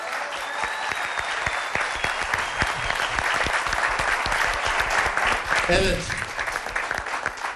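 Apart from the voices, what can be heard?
audience applause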